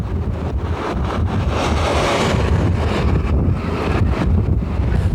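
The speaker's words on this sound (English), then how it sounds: "strong sustained gusts of up to 45 miles per hour whipped through Goldsboro" Hurricane Fran's strong sustained wind gusts roar loud and unbroken against the microphone, a heavy buffeting rumble with no pauses.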